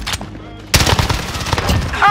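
Rapid automatic bursts from a 9mm M4A1 rifle in a Call of Duty shooter, loud and close, following a brief sharp shot and a short lull, with game noise and voices mixed in.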